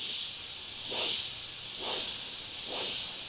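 Acrylic art paint sprays through an airbrush as a close, steady hiss that swells into three short, evenly spaced bursts, with no voices.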